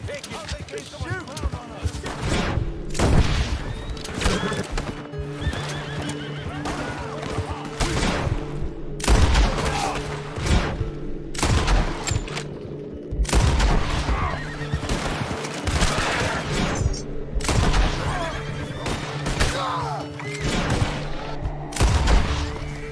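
Gunshots ring out in Red Dead Redemption 2 during a hunt, sharp repeated bursts spread through the scene among horse whinnies, hoofbeats and the odd spoken line.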